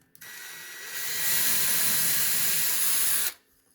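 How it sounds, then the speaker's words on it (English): A small power drill bores holes through laser-engraved metal dog tags, a single steady whine lasting about three seconds that swells slightly once the bit bites, close and fairly loud with no talk. "We need to drill the hole in the two remaining pieces that I didn't put holes in."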